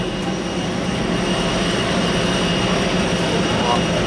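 A steady, broad roar of aircraft engines heard inside an airplane cabin drones throughout, even and unbroken, with faint periodic ticks at the top.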